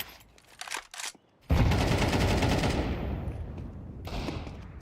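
Gunfire from a Tec-9 and a Desert Eagle in a Counter-Strike match: a couple of sharp early shots, then a loud sustained burst that fades slowly, with more shots near the end.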